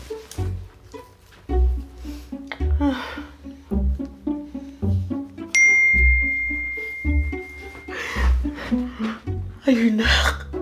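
A phone's text message notification ding rings out clearly once, a bright sustained tone amid indoor scene audio with music and people talking in Filipino around it.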